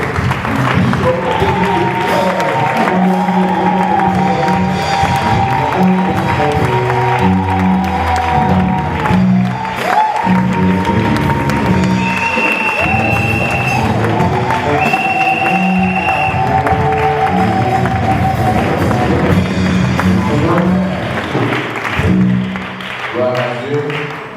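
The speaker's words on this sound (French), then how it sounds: "sous un grand bruit d'acclamation, nous recevons" Church congregation cheering and applauding a preacher at Eglise Semence de Vie, loud and sustained throughout, with music and voices mixed in and steady tapping and thumps beneath the crowd noise.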